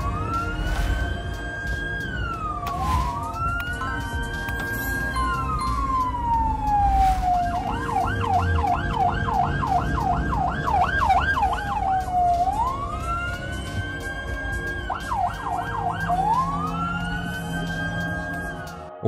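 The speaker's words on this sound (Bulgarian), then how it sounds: "шофьорите в Санкт Петербург изглежда наистина са искали да пропуснат линейката" An ambulance siren moves through traffic in Saint Petersburg, cycling between a long rising-falling wail and fast yelping warbles, loud and close over a constant rumble of street traffic, with no talking.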